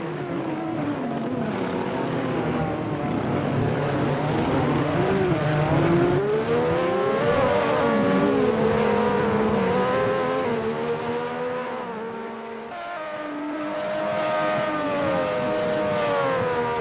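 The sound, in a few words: race car engines roaring in an endurance race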